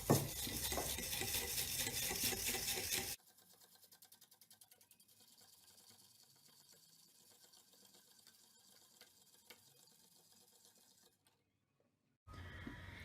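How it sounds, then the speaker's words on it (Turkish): Salt and lemon salt being stirred into water in a bowl for cracked green olives: a loud, dense scraping swirl for about three seconds, then softer, steady stirring with small clicks, falling silent briefly near the end. "kasenin alabileceği kadar su ilave ediyoruz limon tuzu ve tuzumuzu eritiyoruz"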